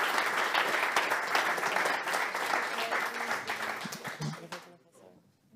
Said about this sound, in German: Einen Applaus bitte für Kantorkel und Jannik nochmal.